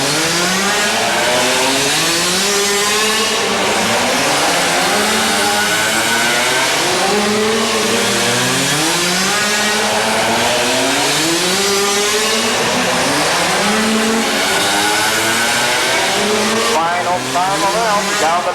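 Racing quad bikes scream past on the Orange County Fair Speedway track, engines revving and wavering up and down in pitch continuously as several machines circle, loud and close, with an announcer talking over them.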